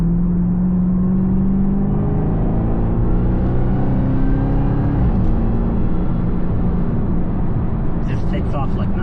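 A 2023 Dodge Charger Hellcat accelerating hard, a loud steady engine roar with a rising whine building under someone talking throughout.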